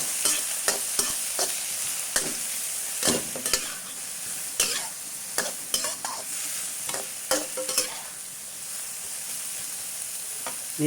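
Pork meatballs stir-fry with garlic, onion and young chilies in a pan: a steady loud sizzle broken by frequent scraping spatula strokes at an uneven rhythm, close and alone.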